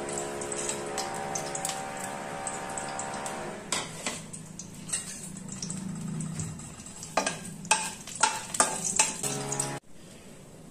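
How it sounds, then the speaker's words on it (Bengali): Cardamom, clove, cinnamon and bay leaf crackling in about four spoons of hot white oil, a soft steady sizzle broken by scattered sharp pops and spoon clicks, ending abruptly. "এর মধ্যে আমি দিয়ে দিচ্ছি এলাচ, লবঙ্গ, দারচিনি, তেজপাতা ফোড়ন"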